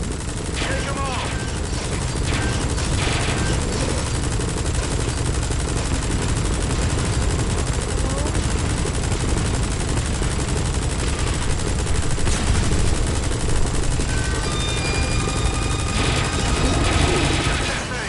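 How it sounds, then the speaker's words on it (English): Helicopter-mounted minigun in Metal Gear Solid 5 roars in a dense, continuous stream of rapid fire over rotor drone, loud and sustained for the whole stretch with scattered impacts and explosions. "Use the chopper's minigun."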